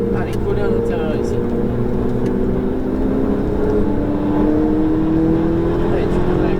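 A Ferrari 488 GTB on the circuit at Fontenay-le-Comte during a driving course roars loud and close from inside the car. Its steady engine drone climbs gradually in pitch as it accelerates.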